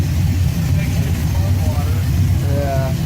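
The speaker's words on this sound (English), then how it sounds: "We got the engine running and we're just gonna let it go." Car engine with welded Thrush mufflers idling close by, a steady low rumbling burble with slight unevenness, while people talk over it.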